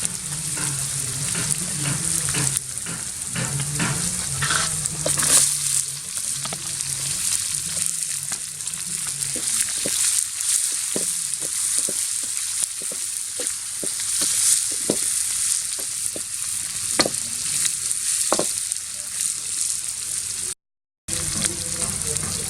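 Onions sizzle in hot oil in a pan while cooking a rabbit roast fry, a continuous bright hiss with occasional stirring scrapes and spatters, steady and close throughout, with a brief dropout near the end.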